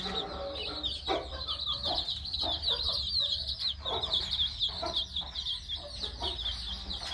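Chicks peeping in a box, a dense stream of high, rapid cheeps over softer clucking from a mother hen, close and continuous.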